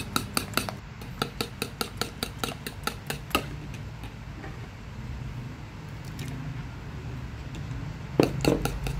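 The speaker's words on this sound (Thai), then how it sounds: "ตีต่อไปนะคะตีไข่ต่อไป" Eggs being whisked in a bowl for Thai steamed eggs, with rapid clinking strokes of a utensil against the bowl in bursts at the start and end, quieter in the middle.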